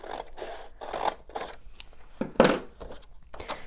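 Scissors snip through paper for a handmade Christmas shadow box, several close, crisp cutting strokes in an uneven rhythm with short pauses between, one louder crunching cut near the end.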